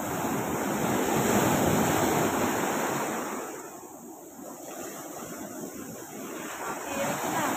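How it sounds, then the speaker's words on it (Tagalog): Big ocean waves surge and wash in close, a broad rushing roar that swells, eases briefly in the middle and builds again, with wind buffeting the microphone throughout. "Malalaki yung alon niya yun eh"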